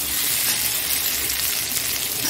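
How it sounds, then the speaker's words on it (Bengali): Potatoes fry in a pan with a steady, crackling sizzle of hot oil, close and fairly loud, with no talking. "আলুটাও ঢেকে ঢেকে আগে ভাজা করে নিই।"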